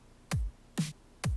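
A programmed electronic kick and snare drum loop from FL Studio: three punchy hits in a steady rhythm, with deep kicks alternating with a brighter, noisier snare, clean and alone with no talking.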